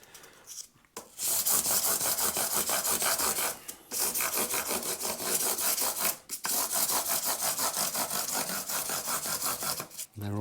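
Sandpaper of 600 grit on a block rubs along the frets of a thinline bass guitar, making long, steady abrasive strokes in three sustained bursts separated by short pauses, close and loud with no talking.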